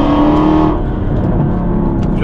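A Mercedes-AMG car engine roars loudly and steadily, its pitch holding high then settling lower as it keeps running close by.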